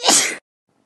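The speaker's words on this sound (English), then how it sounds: "Sneezing." A single sharp, close sneeze, loud and brief, followed by silence.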